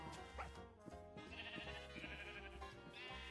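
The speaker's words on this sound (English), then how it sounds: "All the sheep are in one fence." Sheep bleating in the Minecraft video game, repeated game-style bleats over a busy layer of background music and game sounds, with no talking.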